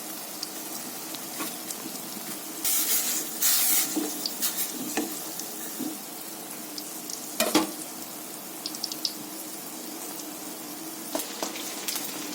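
Mango pieces frying in hot oil in a pan for homemade pickle, a steady low sizzle with brief louder bursts of spitting and stirring, heard close and alone.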